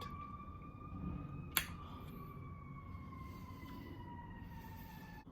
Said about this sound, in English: There's an ambulance going out.